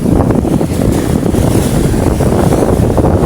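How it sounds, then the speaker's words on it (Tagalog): Rough sea waves and strong wind buffet a boat out on open water in the northeast monsoon season, a loud continuous roar of wind and water rushing against the hull with no let-up. "Masalok ang alon."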